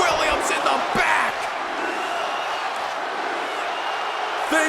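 A large Toronto arena crowd in the WWE 2K24 wrestling game roars in a steady, dense wash of cheering and chanting, with occasional louder swells.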